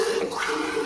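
Water poured from a container into a pot of egg pulusu curry, a close, steady gushing splash lasting about a second without a break.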